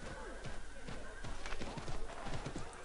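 Horse hooves clip-clop in a quick, steady rhythm in the video game Assassin's Creed III, with soft talking faintly in the background.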